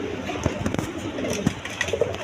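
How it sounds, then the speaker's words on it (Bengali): Coloured pigeons, including Lalgadra birds, kept for sale: soft, repeated cooing close by, with a faint voice in the background. "দেখেন একদম কোয়ালিটিফুল কবুতর"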